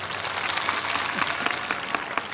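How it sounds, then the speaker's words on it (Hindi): A crowd at a church healing service applauds steadily throughout, dense overlapping claps at an even level with no pause. "जो खुश हैं वो ताड़ी बजाओ"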